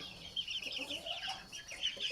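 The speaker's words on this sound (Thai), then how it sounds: "ไก่จะเข้าสองเดือนแล้วนะครับ" A young fighting cock of about two months, from a breeding line with parents of red-ringed Myanmar stock, clucks in quick, uneven bursts close by, with a few high-pitched squawks and faint background noise and no voices.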